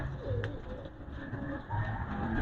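Pigeons coo nearby in soft, low repeated calls over a busy background murmur, steady and moderately loud for the whole stretch.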